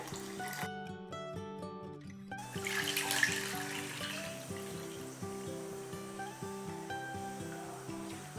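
Salted sliced onions are rinsed under running water, a steady splashing and trickling stream with a brief harsher gush midway, accompanied by soft background music.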